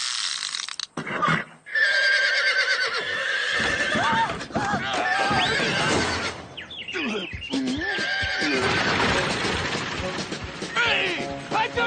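Horses neigh and whinny loudly several times, with clattering hooves, crashing knocks and voices mixed in.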